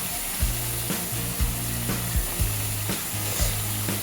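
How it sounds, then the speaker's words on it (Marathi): Onions with chopped coriander sautéing in a pan for a chicken kharda, a constant sizzle with regular spatula scrapes about once a second over a low steady hum. "त्या कांद्यामध्ये थोडं परतायचं आहे, आणि कोथिंबीर त्यात टाकून घ्यायची चिरलेली."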